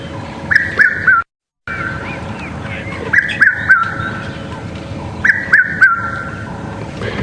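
A red-chested cuckoo in the background repeats a clear three-note whistled call at regular intervals over a steady outdoor hum, on a morning safari drive at Djuma Game Reserve.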